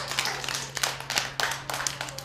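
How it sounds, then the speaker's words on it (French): A small group claps for Armel at an educational presentation, scattered bursts of hand clapping over a steady low hum. "On applaudit très fort pour Armel."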